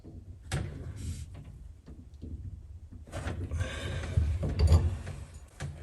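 A wrench works on the bonnet of a main water shutoff valve, producing close metallic clicks, scrapes and ratcheting creaks in short bursts.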